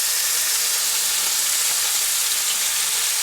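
Bacon strips fry in a pan for a breakfast muffin sandwich, producing a loud, continuous crackling sizzle with a bright hiss, close up and steady throughout, with no talking.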